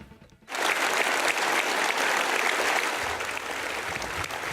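Loud audience applause erupts suddenly after a brief quiet moment and carries on steadily as a dense wash of clapping from a studio crowd at a televised comedy roast.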